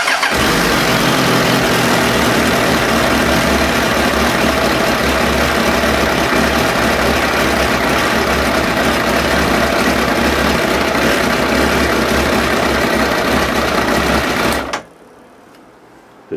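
Suzuki Bandit 1200 motorcycle engine running loud and steady at close range, a continuous rumbling idle that cuts off abruptly near the end.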